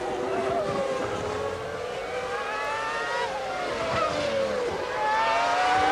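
Formula 1 cars racing at the 1995 Pacific Grand Prix, engines screaming and shifting pitch as they rise and fall through a sequence of short braking zones, a steady loud drone heard as broadcast track sound.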